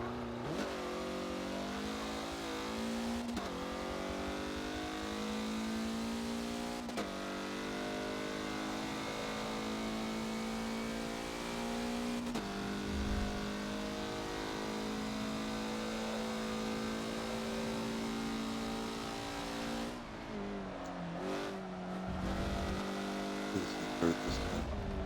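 A race car engine at Suzuka in a Forza video game drones and revs steadily, rising and easing with the throttle through corners, with quick lifts and gear changes and a closing burst of shifting, loud and continuous.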